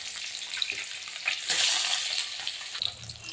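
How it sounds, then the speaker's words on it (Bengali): Tilapia pieces frying in hot oil in a wok give a close, steady crackling sizzle that swells into a louder burst partway through, with no voices. "আমার তেলও গরম হয়ে গেছে, আমি মাছ দিয়ে দিচ্ছি। দেখুন, এভাবে মাছগুলো ভেজে নেবো আমি সব।"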